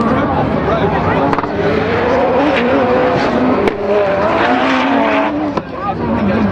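Rallycross race cars, a Mini and a BMW, roaring around Silverstone's mixed surface, engines loud and close with rising and falling revs and occasional sharp bangs, under continuous commentary.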